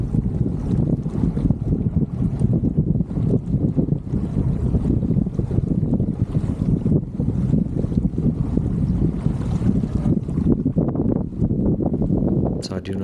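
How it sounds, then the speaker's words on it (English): A speedboat crosses near a sailboat on a lake, heard as a steady rumbling engine and water wash mixed with strong wind buffeting the microphone throughout. "A speedboat crosses my bow"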